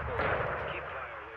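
A missile strike explosion in the video game Modern Warfare 2, heard as a loud, sustained rumbling blast with crackling gunfire-like bursts running through the clip.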